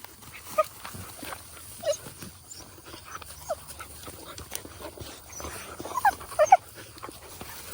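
Farm dogs whimpering and giving short yelps and barks at close to moderate range, scattered over several seconds with a small cluster near the end, against quiet outdoor background.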